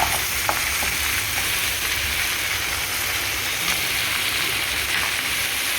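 Steady, dense hiss of water hitting a hot pan of vegetarian cabbage curry, a loud continuous sizzle that holds evenly throughout with a few faint clicks, up close and without speech.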